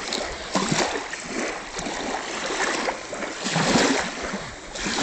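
Broadband surf rolls and crashes continuously, with swells building and breaking in surges, loud and close.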